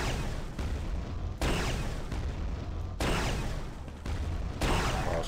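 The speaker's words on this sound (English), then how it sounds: "I was just standing in the wrong place for one of those explosions" Explosions from the Quake II 64 video game, a series of booming blasts in rapid succession, each a loud broadband burst with decaying rumble, continuing steadily throughout with no talk.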